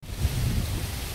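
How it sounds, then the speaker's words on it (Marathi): Rain falling outdoors in the open, a steady rumbling wash of noise that rises quickly and holds even, fairly loud and without voices. "इकडं इकडं पाऊस"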